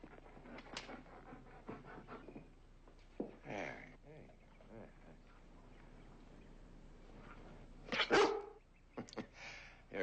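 Pax the dog gives several sharp, close barks scattered among soft sounds, with a loud burst near the end, while a voice talks intermittently.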